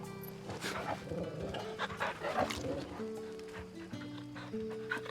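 A dog pants in rapid close breaths in Final Fantasy 16, mixed with soft clopping and game music, with speech partly over it.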